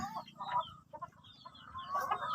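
Rhode Island Red and native chickens cluck on a Philippine breeding farm, with several overlapping calls in a busy, steady stream and a louder burst of clucking near the end.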